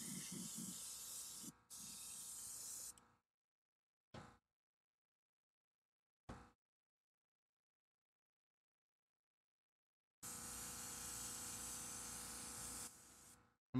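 Spray paint bursts applying a quick second coat to a Zombie Batman head: a long hissing spray, two short puffs, then another long spray, each close and steady with silence between.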